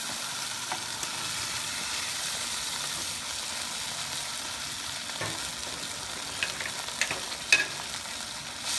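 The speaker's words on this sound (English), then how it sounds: "Let's give it like 2 or 3 minutes to cook the eggplant." Eggplant fries in a pan of Kapampangan pork binagoongan with a steady, moderate sizzle throughout, joined near the end by a few light clinks and scrapes of stirring.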